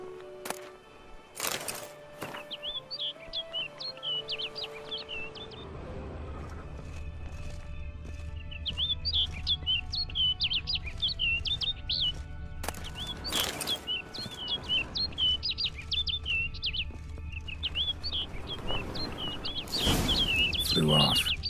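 A bird chirping in The Witcher 3: Blood and Wine, bursts of bright, rapid tweets repeating over ambient game sounds, with hoofbeats, a horse's snort and a voice talking at times.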